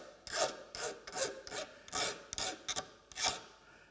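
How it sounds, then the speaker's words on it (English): Rhythmic rasping strokes of a metal file along the bevel of garden shears, about eight close, scratchy back-and-forth passes with brief pauses between them. "I'm filing out along the bevel"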